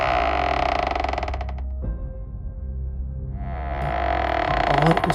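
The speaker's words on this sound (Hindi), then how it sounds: "हमारे घर के एक कमरे का दरवाज़ा एक अजीब सी आवाज़ करते हुए खुलता है" A room door slowly creaks open in a long, loud, strained groan that shifts pitch midway, close and prominent, with a low eerie drone beneath it.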